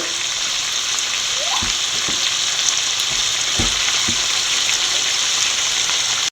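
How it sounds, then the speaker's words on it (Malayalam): Rabbit meat frying in a pan with ketchup being stirred in, a dense steady sizzle punctuated by a few dull knocks and scrapes of a spoon against the pan, close and loud, without speech. "ഇനി അത് നല്ലപോലെ കൂട്ടി യോജിപ്പിക്കുക"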